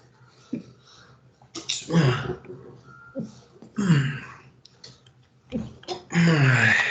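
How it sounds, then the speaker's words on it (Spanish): A person sneezes a few times during an online group meeting, the bursts short and fairly close with breathy gaps between them. "Estaba por aquí como medio estornudando."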